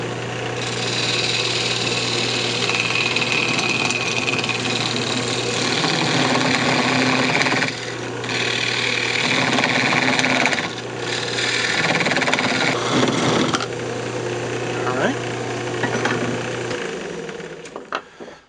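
A wood lathe runs steadily and loud while a tool parts off a turned wooden hamburger press, a constant motor hum under scraping and cutting noise, with brief dips as the cut pauses and the spindle winding down at the end.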